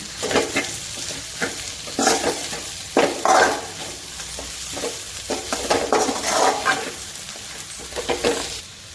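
A spoon stirs chili powder into carrots and other vegetables frying in a pan for carrot rice, with repeated scraping strokes over a steady sizzle, close up.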